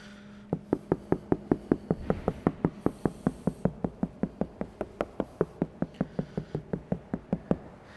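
Knuckle knocks on the inside of a car roof after 3mm soundproofing material has gone in, landing as about twenty-five solid, dull, evenly spaced raps close to the mic. Each thud is short and damped, with no tinny ring.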